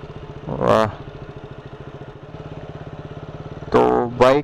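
A motorcycle idles close by with a steady, even putter, rising in two short revving bursts over an outdoor roadside stop at a Jhargram tourist area, with a person talking nearby.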